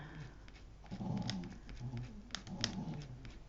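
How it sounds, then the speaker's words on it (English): Dogs nearby breathe in slow, rough, snuffling snores that rise and fall in repeated cycles, fairly quiet and close. "those dogs are snoring like mad"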